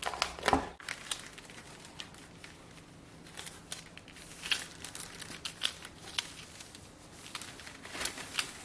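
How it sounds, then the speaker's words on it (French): Adhesive tape being peeled off a shoe last in a shoemaking workshop, giving a close, crackling, sticky tearing sound in irregular bursts with a sharper snap near the start. "Quand on décolle l'adhésif, il faut absolument éviter que l'adhésif ne s'allonge"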